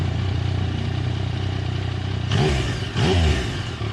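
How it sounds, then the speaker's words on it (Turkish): A Yamaha Tracer 900 three-cylinder engine hums steadily at a low pitch while riding, then revs up twice in quick bursts as the bike accelerates, its exhaust loud and close. "Egzoz sesi inşallah güzeldir"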